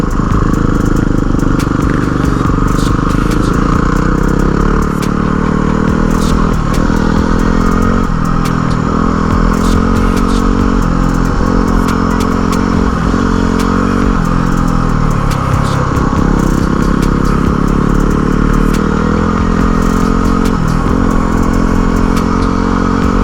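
Several dual-sport motorcycles ride through Osceola National Forest at night, a loud continuous engine drone with shifting revs and rattling clatter close to the rider, no talk.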